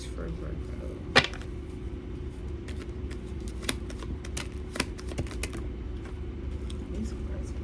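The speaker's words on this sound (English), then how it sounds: "These cards really trying to shuffle for y'all right now" Tarot cards shuffle in quiet, irregular riffles and taps, with a few sharper snaps standing out against a low background hum.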